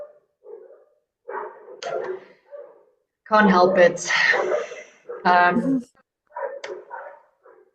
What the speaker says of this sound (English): they tend to bark at pretty much everything and everyone that walks past the gate this time of the afternoon